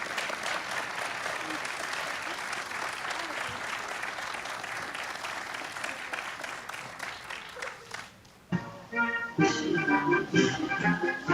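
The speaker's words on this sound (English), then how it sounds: "You can hear the crowd applauding" A crowd applauds at a Supreme Court nomination announcement, sustained clapping for about eight seconds before it cuts away to someone talking close to the microphone.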